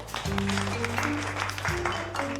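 A classroom full of students claps together in a steady burst of applause, lasting a couple of seconds under sustained background music.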